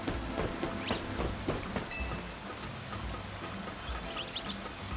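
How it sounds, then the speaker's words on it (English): Steady rain falls in the Pokemon Legends Z-A video game, a dense continuous hiss of drops with faint patters and a low rumble underneath, even and unbroken throughout with no voices. "the rain noise will stop."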